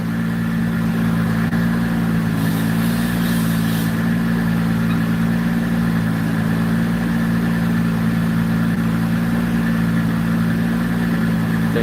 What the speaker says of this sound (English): Sounds so good on the dyno.